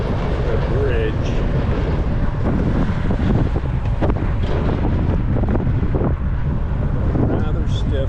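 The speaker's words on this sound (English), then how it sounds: "A rather stiff wind in my face." A stiff wind blasts straight into the microphone during an autumn outing near a bridge, making a loud, constant low roar and buffeting that covers the whole clip.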